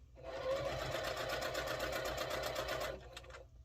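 Sewing machine stitching a quilt block, a rapid even run of needle strokes for about three seconds, close and clear, then slowing and stopping with a few final clicks.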